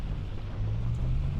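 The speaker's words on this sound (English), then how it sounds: "The rain is very loud" Heavy rain in Farming Simulator 25, heard from inside a truck as a steady, dense roaring hiss with a low rumble, loud and constant with no voices.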